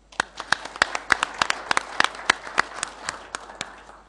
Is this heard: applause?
yes